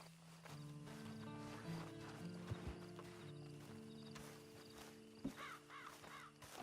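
Horse hooves clip-clop steadily in Red Dead Redemption 2 Online, with crows cawing and a low drone in the background; no one speaks.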